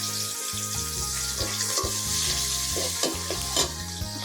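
Curry with onion sautéing in a pan for a village-style shing fish dish with drumsticks and mustard paste, a steady close sizzle and frying hiss with stirring scrapes throughout, under a continuous tonal hum.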